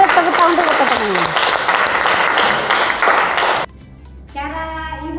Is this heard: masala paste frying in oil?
no